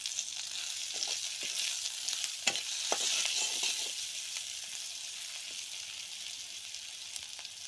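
Chopped green chillies fry with browned onions in a little oil, a faint, steady sizzle with occasional stirring clicks and taps, close but quiet, no speech.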